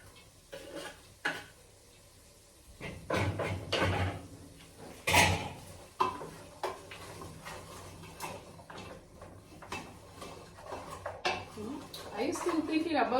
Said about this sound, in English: So it's at this point that I'm throwing in my onions,